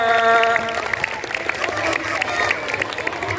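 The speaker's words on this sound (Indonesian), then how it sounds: "Boleh tepuk tangan untuk kita semua." An audience claps together at a children's storytelling session, brisk scattered hand claps under lively voices and some musical tones, moderately loud throughout.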